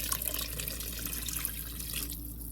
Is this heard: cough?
no